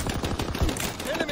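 Rapid gunfire in the video game Call of Duty, a dense continuous burst of shots running through the whole moment, loud and close, with a voice talking over it.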